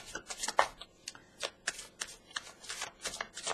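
Tarot deck shuffled by hand up close, a run of quick papery riffles and soft card flutters in irregular bursts, fairly quiet with no talking.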